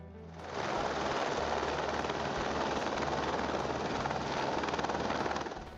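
A firefighting helicopter passes overhead with a rapid, steady rotor chop and a broad engine roar. The sound rises quickly, holds loud and constant, then eases slightly at the end, with no talk.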